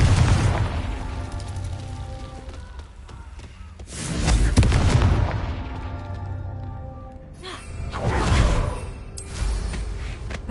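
Confringo fire spell explosions in the PS5 game Hogwarts Legacy: two deep booming blasts with whooshing bursts several seconds apart, over a soft, constant background.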